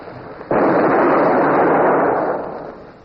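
A ship's cannon fires in a naval battle at Haiti, one sudden loud blast followed by a long rumbling roar that fades over a few seconds.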